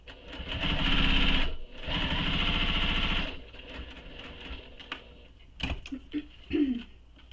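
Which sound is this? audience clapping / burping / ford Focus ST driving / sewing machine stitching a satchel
sewing machine stitching a satchel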